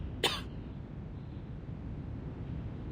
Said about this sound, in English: And now I cough and splutter just like it does.